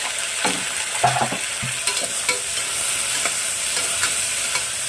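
Tomatoes and onion fry in a pan for a bottle gourd vegetable dish, giving a steady close sizzle with soft scraping stirs at intervals.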